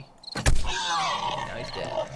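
A wild pig in the video game 7 Days to Die gives one loud grunting squeal up close, then a drawn-out, rough snorting growl that carries on over game background noise.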